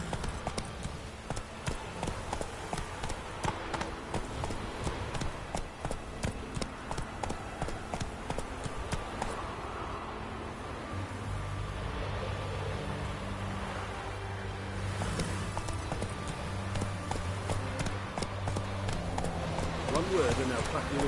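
Horse hooves gallop in The Witcher video game, a rapid rhythmic clip-clop pounding steadily and close for most of the stretch, joined later by a low humming drone and scattered game voices.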